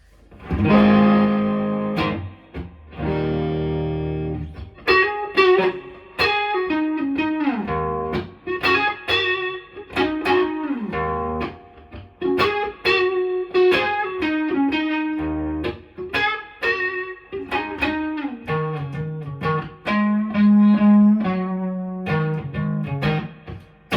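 An electric guitar plays a run of chords and single notes through a mildly distorted, crunchy Laney LC30 amp, loud and close with no talking.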